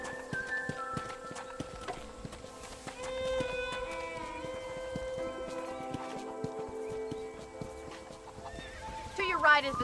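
A horse whinnies and clip-clops along over light background music with melodic notes, a brief sharper flourish near the end, in the video game Red Dead Redemption.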